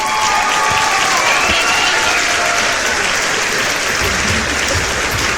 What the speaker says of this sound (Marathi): सात्विकसाठी जोरदार टाळ्या होऊन जाऊ दे.